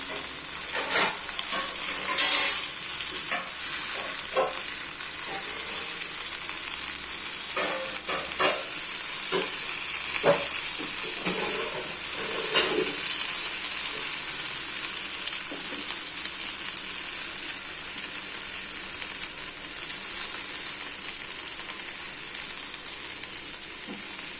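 Semolina-coated prawns fry in a pan with a constant loud sizzle, broken by scattered scraping and clicking as they are stirred and turned.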